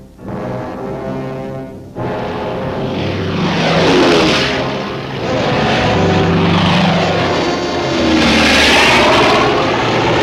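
Loud, continuous drone of WWII-era propeller aircraft engines at an airstrip in Moresby, New Guinea, as parachutists load for a combat jump; the roar swells and fades with no speech.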